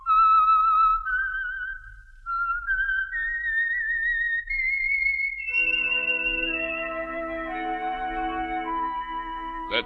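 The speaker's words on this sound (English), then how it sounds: "Let that whistle be your signal" A whistled signal from an old-time radio drama program is a clean, solitary melody of sliding tones that rises step by step, then ends in a sustained orchestral chord with a short sharp accent at the close.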